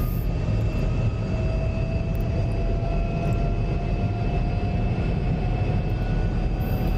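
F-35B jet in flight in the DCS flight simulator, a loud, steady engine roar with a whining tonal hum, constant and close for the whole stretch.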